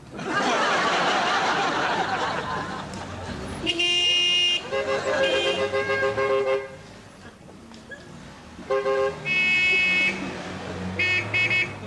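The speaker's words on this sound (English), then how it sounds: "Did you hear those lunatics on their horns?" Car horns honking on a road in several loud bursts, some overlapping, with talking and laughter between and over them.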